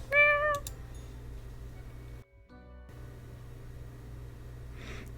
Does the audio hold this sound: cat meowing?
yes